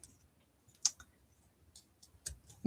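Scissors cutting small pieces of paper for a handmade card, a few soft, crisp snips spaced apart in an otherwise quiet room.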